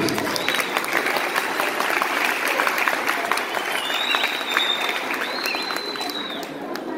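Wedding guests in a hall break into sustained applause, a dense, steady wash of many hands clapping at close range, with faint crowd murmur and a couple of high whistle-like tones mixed in.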